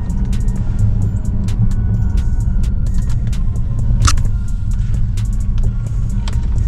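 A Mercedes-Benz S550 4MATIC engine hums low and steady while driving, with road rumble underneath and a few faint clicks and rattles from inside the cabin.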